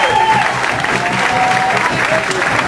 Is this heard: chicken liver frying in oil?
no